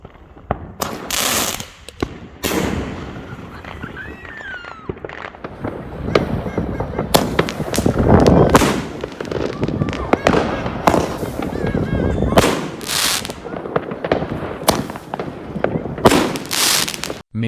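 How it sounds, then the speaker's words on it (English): Monster single-shot 35 mm air bomb fireworks from SveaFireworks, firing four different effects: repeated sharp launch thumps and loud bangs with crackling bursts, spread irregularly over the whole stretch, with no talk. "this is a short clip of the single-shot air bomb from SveaFireworks"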